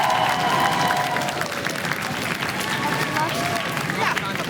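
Steady applause from a quiz show audience, sustained clapping with some crowd murmur running through the whole stretch, fairly loud and continuous.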